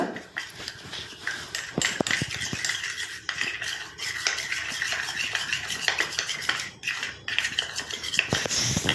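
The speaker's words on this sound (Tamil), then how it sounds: "இப்போ கட்டிகள் இல்லாமல் நல்லா மிக்ஸ் பண்ணி விட்டுக்கோங்க." Mustard oil hair mixture being stirred in a bowl with a metal spoon, producing steady close scraping and clinking against the sides in a continuous, busy rhythm with frequent sharp taps.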